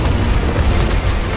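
Pirate cannon fire in the video game It Takes Two produces a loud, dense, sustained rumbling explosion that fills the whole moment, with no voices over it.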